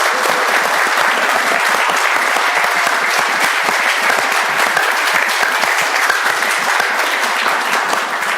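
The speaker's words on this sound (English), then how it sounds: "A round of applause for the inventors," A live audience at a literary quiz show gives loud, continuous applause for a game's inventors, a thick, even wash of many hands clapping without pause.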